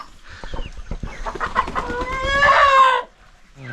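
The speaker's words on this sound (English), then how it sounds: "There's nothing here but chickens." Chickens clucking close by at a remote jungle lodge in Peru, a run of short clucks building into a drawn-out squawk, then quiet.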